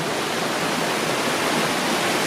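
Waterfalls on the San Antonio Riverwalk pour in a steady, loud, broadband rush of falling water that holds constant throughout, with no voices heard.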